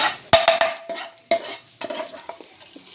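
A spatula scrapes and knocks around a pan in quick irregular strokes over a faint sizzle of frying food, close by and with no voices.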